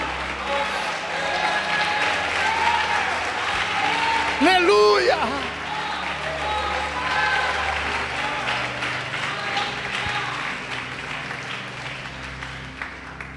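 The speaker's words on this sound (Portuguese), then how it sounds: "Pode aplaudir o Senhor." A church congregation claps and cheers throughout, loud and continuous, while a voice calls out over the crowd and brief tonal sounds rise midway.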